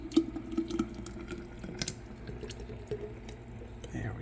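Eggnog-style holiday punch poured from close by into a clean glass mason jar: a short liquid splash and trickle with light glass clinks, fairly quiet against a soft room background.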